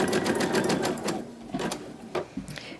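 A sewing machine stitches strips of leftover quilt batting together, its steady rapid needle chatter running close and loud, then slowing into a few short separate bursts.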